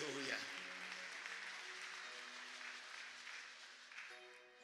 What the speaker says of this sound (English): Please applaud this great woman of God.